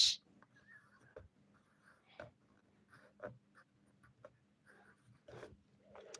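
A pen writes names on paper, giving faint scratchy strokes in short bursts with quiet gaps between them, close up and mostly alone.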